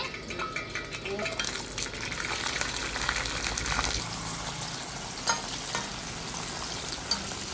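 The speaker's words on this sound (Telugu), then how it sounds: "ఇప్పుడు పచ్చిమిరపకాయలు వేగనియండి" Green chillies frying in a pan for a spinach chutney, an ongoing crackling sizzle with stirring scrapes, close up and moderately loud, with a few sharper pops near the end.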